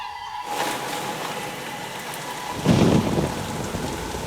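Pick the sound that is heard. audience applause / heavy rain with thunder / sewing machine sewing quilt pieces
heavy rain with thunder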